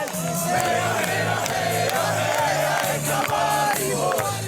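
A crowd of Maribor football fans at an airport cheering and chanting for their returning team, a loud, dense roar of voices with a regular rhythmic beat to the chant that keeps going throughout.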